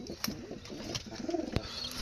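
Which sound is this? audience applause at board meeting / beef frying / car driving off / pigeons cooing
pigeons cooing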